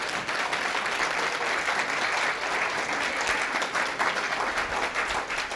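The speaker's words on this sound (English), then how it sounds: "I would really like you to give another round of applause." Sustained audience applause at a book chat event, many hands clapping in a dense, even roar that holds steady from start to finish without talk.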